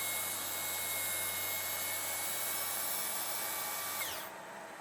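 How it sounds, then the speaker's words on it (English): A Makita cordless track saw runs at a steady high-pitched whine while cutting through a piece of scrap wood. The motor drones evenly for about four seconds, then spins down and fades abruptly. "I've got my Makita cordless track saw, and I've got a piece of scrap wood set up because I want to check this cut"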